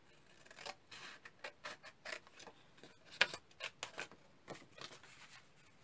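Scissors snipping paper for an altered envelope craft, a quiet series of short crisp cuts in an irregular rhythm, close by.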